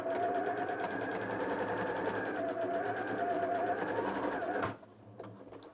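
A sewing machine runs a zigzag stitch across a crazy quilt, whirring steadily and close for nearly five seconds before stopping abruptly, leaving faint handling sounds.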